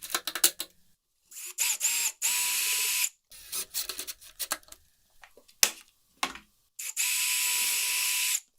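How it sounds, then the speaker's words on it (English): Power drill driving countersunk pilot holes and screws into clamped wood with pre-cut spacers while building an outdoor serving cart; several bursts of whirring separated by pauses, close and loud, with no talking. "I'll drill countersink pilot holes and secure with screws"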